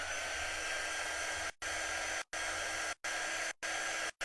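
A hair dryer blows steadily on chalk paste over craft pieces for bottle brush trees, a faint continuous whir cut off by four short pauses spaced about a second apart.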